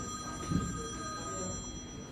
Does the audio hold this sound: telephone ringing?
yes